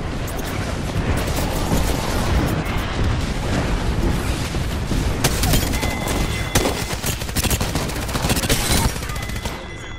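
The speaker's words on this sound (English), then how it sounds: "Watch out, airstrike on us." Airstrike explosions and rapid gunfire in a video game: a dense, continuous barrage of booms and automatic fire, loud and close throughout, with sharp cracks standing out toward the middle and end.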